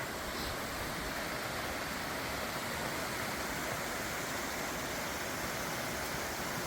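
A waterfall along a Great Smoky Mountains trail gives off a steady, dense roar of rushing water, broadband and unbroken, filling the scene with no voices over it.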